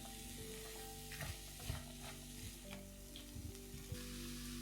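Onion and beans frying and sizzling in a pan while being stirred, a steady hiss with scattered clinks and scrapes of a utensil, close and moderately loud, with no talking.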